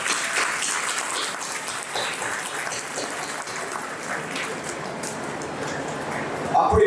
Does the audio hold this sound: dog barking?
no